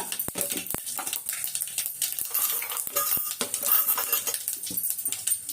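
Dried chillies crackle and sizzle in hot oil, with sharp pops and occasional metallic clinks of a utensil against the pan, close by.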